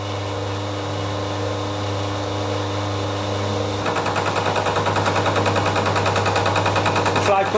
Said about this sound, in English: The fly cutter's running at 300 RPM. Sounds happy, it's making happy sounds.